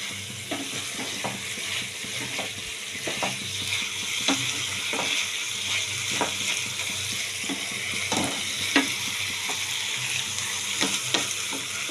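Raw banana and prawns with mustard and green chillies cook in a wok, giving a steady close sizzle broken by repeated scraping stirs at an uneven rhythm, with no voices.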